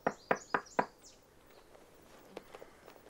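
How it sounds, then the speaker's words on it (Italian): Four sharp, evenly spaced knocks on a door land close and loud in quick succession, followed by quieter room sounds with a few faint taps. "Bussano."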